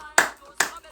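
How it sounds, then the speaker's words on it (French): Audience applause at a public lecture-style event honoring a sultan, heard as two short bursts of clapping about half a second apart, fairly near and moderately loud. "Applaudissons pour Sa Majesté."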